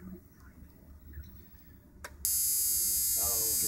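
A Sparky-1 high-voltage ignition board runs at 21,000 RPM, a steady loud high-pitched buzzing whine that suddenly switches on partway through after quieter background noise, with a faint voice near the end.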